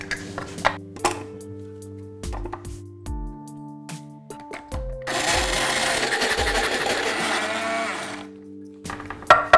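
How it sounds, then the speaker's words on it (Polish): A blender attachment minces raw pumpkin cut into thick cubes, giving about three seconds of loud, close whirring and grinding over soft background music. "miksujemy ją w specjalnej, dodatkowej przystawce do naszego blendera."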